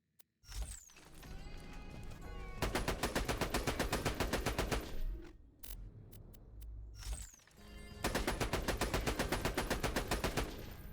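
Rapid automatic gunfire from a weapon fired from the hip in a first-person shooter video game, two long loud bursts of evenly spaced shots with a quieter stretch of game noise between them, no talking.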